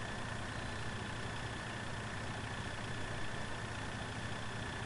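Steady tractor engine idling and running in Farming Simulator 2013, a continuous low drone with a broad mechanical hum that holds an even level throughout with no talk.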